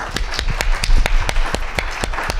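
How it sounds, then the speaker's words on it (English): Scattered clapping from a small audience at a career masterclass during an open day, a handful of sharp, uneven claps close by rather than a full ovation. "If I could give a round of applause."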